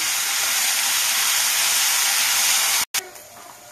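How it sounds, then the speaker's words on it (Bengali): Bitter gourd frying in oil gives a loud, steady, broadband hiss and sizzle for nearly three seconds. It cuts out in a brief gap, then comes back softer and thinner. "উচ্ছেটাও লাল লাল করে ভেজে নেব।"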